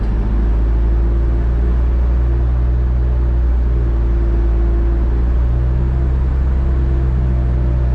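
Steady, loud engine drone from a car held under load on a dyno in 4th gear, throttle open and clutch out, a constant low hum and rumble lasting throughout with no breaks.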